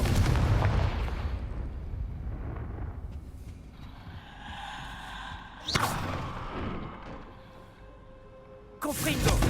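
Bursts of a fire spell exploding in the video game Hogwarts Legacy, with booming impacts and a crackling tail, followed by sharp cracks near the middle and again at the end, loud and close.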